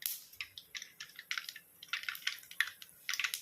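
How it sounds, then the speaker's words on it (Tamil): Mustard seeds popping in hot oil for a tomato thokku, a scatter of small crackling pops and spits, fairly faint and irregular with no talk. "கடுகு நல்லா பொரியுது."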